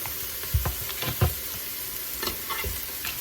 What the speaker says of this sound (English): I'm just going to stir them around a little bit